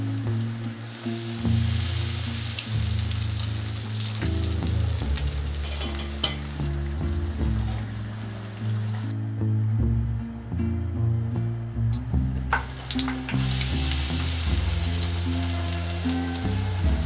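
Battered tempura pieces of shrimp, sweet potato, eggplant and lotus root fry in hot oil, giving a loud, continuous crackling sizzle close by, with brief stirring and handling noises and no voices.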